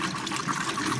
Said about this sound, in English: Water's starting to come through now.